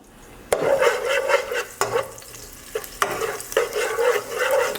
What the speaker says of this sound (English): we're just gonna go ahead and start adding our garlic. And we're gonna let this cook for about 1 minute.